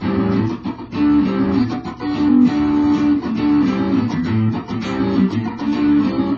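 An electric guitar plays the main riff of a song repeatedly, steady and fairly loud, with sustained chords and pitch changes looping through the phrase.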